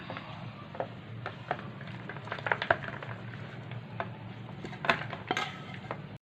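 Metal spoon scraping and clinking as potato vada filling is moved from a pan into a bowl, with irregular light taps and scrapes over a steady low background hum.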